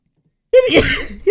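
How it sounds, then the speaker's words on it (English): A single sharp sneeze bursts out after a moment of silence, close and loud, followed by a brief breathy trail. "I feel like I have to sneeze."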